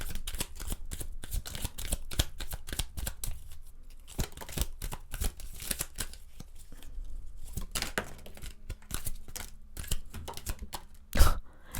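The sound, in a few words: cards being shuffled for a reading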